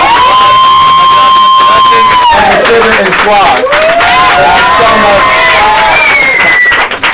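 Poetry night audience cheering and whooping loudly at an intimate reading, a dense crowd roar with shouts over steady clapping, while a voice talks and a sustained tone sweeps through the noise.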